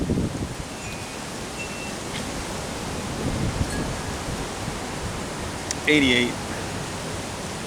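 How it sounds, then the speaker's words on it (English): Wind buffets a microphone outdoors, a steady broadband rush with gusty swells that runs the whole time, and someone speaks briefly over it. "This wind. Sorry about this wind."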